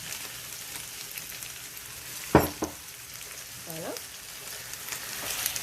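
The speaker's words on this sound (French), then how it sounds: "maintenant que ma viande hachée est bien cuite, je rajoute mes 2 œufs" Ground beef frying in a pan for a meat bourek filling as two eggs are cracked over it, a continuous close sizzle broken by a sharp knock and a brief scraping stir, with a short spoken word early on.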